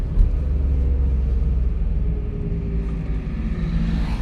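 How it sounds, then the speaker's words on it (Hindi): A car engine over-revs in first gear above 20 km/h, a loud, steady droning roar with a strained, held pitch that continues throughout. "देखो कितनी ज़्यादा आवाज़ लगी गाड़ी करने, इसका मतलब ओवर रेस लगी गाड़ी होने"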